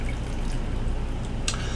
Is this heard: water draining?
yes